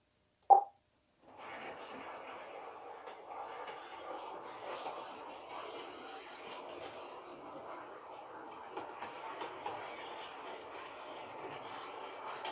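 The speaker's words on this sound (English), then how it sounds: "let's send a loco around now" A small DCC model railway locomotive runs around a reversing loop, giving a faint, steady whirring rumble that starts after a single click and carries on evenly.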